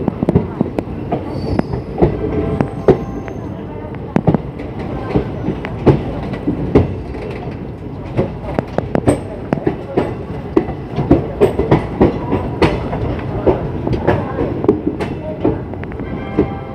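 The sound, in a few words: special passenger train running on rails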